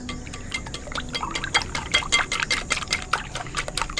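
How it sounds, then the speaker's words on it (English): Eggs seasoned with salt, yolks and whites, whisked in a bowl at a farmhouse: a quick, steady run of close, clicking and sloshing strokes with no one talking. "I'm gonna give this a nice whisk."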